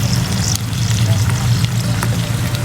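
Shrimp sizzle in a pan with chili sauce, a loud steady frying hiss with faint stirring clicks, continuous and close.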